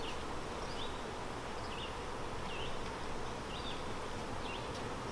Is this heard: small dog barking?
no